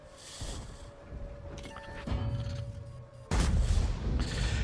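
Artillery fire from a World of Tanks match: a low, distant boom lands partway through, then a heavier, louder blast follows, over a humming engine bed with no voices.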